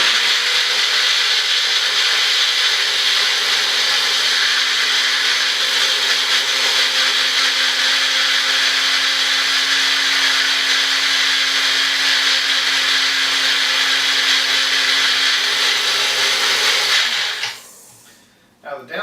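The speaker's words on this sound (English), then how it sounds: "use the actual blades to try to help distribute that and de-chunkify the molasses chunks" A Magic Bullet blender chops and powders brown sugar with its blades, a loud steady whir running unbroken for about seventeen seconds before winding down abruptly near the end.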